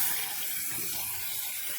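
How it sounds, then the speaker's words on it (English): Tap water runs steadily over canned beans in a strainer as they are rinsed, a constant close hiss and splash with no voices. "you're going to take your water and just strain it"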